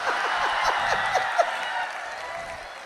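Applause from an audience at a Hindi comedy poetry gathering (hasya kavi sammelan), a steady wash of clapping with a few sharper individual claps standing out, gradually thinning toward the end.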